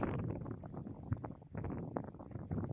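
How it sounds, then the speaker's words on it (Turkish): Steady low wind rushing and buffeting outdoors, continuous and faint, with no other clear sounds. "Ama rüzgar hala esmeye devam ediyor"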